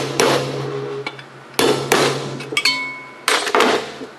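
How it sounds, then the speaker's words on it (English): A little lump hammer strikes a punch to drive a pressed-in governor shaft out of a 212cc or 196cc small engine block, three sharp metallic taps with ringing decay, each followed by lighter rattles. "Use a punch, a little lump hammer"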